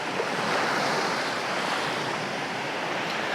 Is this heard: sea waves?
yes